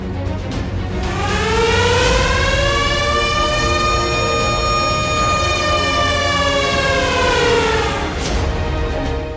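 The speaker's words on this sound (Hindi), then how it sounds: "एक बार फिर आपको युद्ध वाले सायरन की आवाज सुनाई देने वाली है।" A loud wailing air raid siren with many rising harmonics, holding a long steady tone before sliding down, sounding alone and close.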